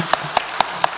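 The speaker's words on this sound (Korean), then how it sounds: "박수 한번 할까요?" Four crisp hand claps land in an even, steady rhythm, close by and fairly loud.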